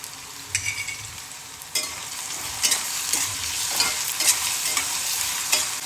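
Potatoes sauté in a pan with a constant hissing sizzle, broken by repeated scraping stirs of a spoon against the metal, close and moderately loud.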